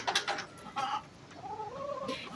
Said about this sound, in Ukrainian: Оце така ручна курочка